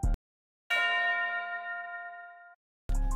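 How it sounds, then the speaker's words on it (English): A single bright bell tone rings out and decays smoothly over about two seconds, framed by brief bursts of a heavier dark trap beat made in FL Studio. "And then I added this bell."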